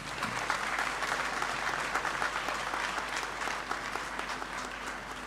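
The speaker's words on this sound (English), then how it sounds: "I think you deserve a round of applause." A graduation ceremony audience in a great hall breaks into sustained applause, a broad, even roar of many hands clapping at a constant level with no talk over it.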